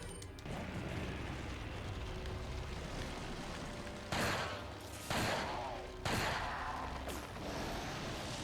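Rifle shots from the Resident Evil 4 video game, three or four loud broadband blasts about a second apart over a steady, busy game soundscape.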